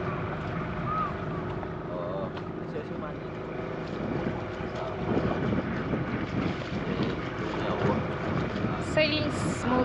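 A boat sails across Lake Naivasha in Kenya, with a steady wash of water and engine noise and wind buffeting the microphone throughout, a little louder toward the end.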